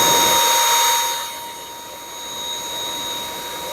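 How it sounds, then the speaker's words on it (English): A vacuum cleaner runs during the teardown of a dead Begode electric unicycle 100V battery pack, a loud whining roar with steady tones that drops in level after a second and continues more quietly. "And vacuum it as well."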